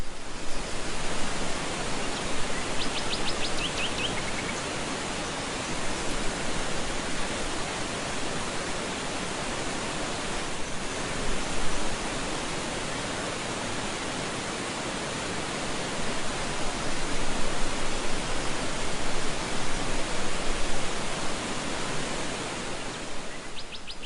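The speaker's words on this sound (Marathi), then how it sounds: "भांबवलीचा धबधबा." Bhambavli waterfall in Satara, one of the country's tallest, gives a continuous dense rushing roar of falling water, steady and loud throughout with no pauses.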